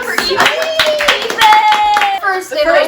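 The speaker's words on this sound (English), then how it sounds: "Clap for Ethan." A small group of people clapping for Ethan, a short burst of hand claps mixed with overlapping chatter and a voice at close range.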